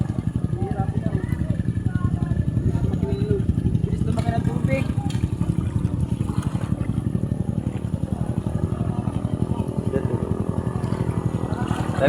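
A motorcycle engine runs steadily and loudly while being pushed through rising flood water during heavy typhoon rain, its droning rumble continuous throughout, with faint voices in the background.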